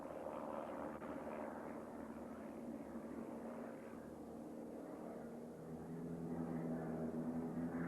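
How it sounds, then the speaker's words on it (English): Pitts Special sporting biplanes fly an aerobatic display at the 1992 Australian International Air Show at Avalon, their engines a faint, distant drone that swells slightly toward the end. "The Pitts Special, designed by Curtis Pitts, is a high-performance sporting biplane chosen by many of the Western world's finest aerobatic pilots"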